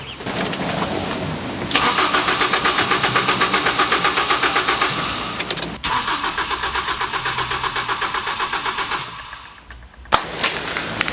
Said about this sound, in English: if I turn it over now, it should spark or light up